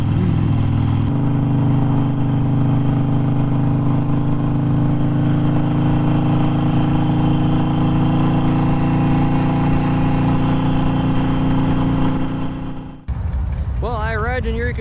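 A motorcycle ride through the Ozark hills toward Rogers during the Bikes, Blues, and Barbecue rally. A loud, steady engine drone and wind rumble continue without a break, then cut out near the end as a voice starts speaking.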